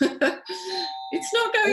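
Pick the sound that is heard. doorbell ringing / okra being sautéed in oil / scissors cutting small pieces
doorbell ringing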